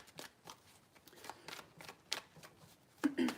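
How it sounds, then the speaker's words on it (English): Tarot cards are shuffled by hand in several quick, soft riffles and taps, close but quiet, with a short louder burst near the end. "Pisces, 3 shuffles."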